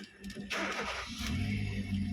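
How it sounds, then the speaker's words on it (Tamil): A Hyundai i10 engine with a starting problem cranks briefly, then catches and settles into a steady idle rumble, close by and fairly quiet. "இப்போ வண்டி ஸ்டார்ட் ஆகணும்."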